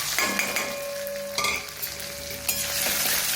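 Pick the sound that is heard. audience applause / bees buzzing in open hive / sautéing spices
sautéing spices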